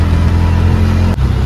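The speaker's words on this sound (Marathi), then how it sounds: "जोर निसते ट्रॅफिक." Steady road traffic on a crowded rainy day, a deep continuous engine rumble of passing cars, loud and close, with a brief dip in the middle.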